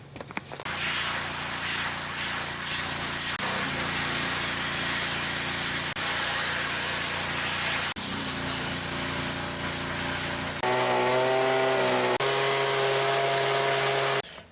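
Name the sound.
power tool with Koenig strip disc removing paint and rust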